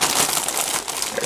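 Plastic packaging around a Build-A-Bear dinosaur plush being cut open, a brief close burst of crinkling and rustling with no voices.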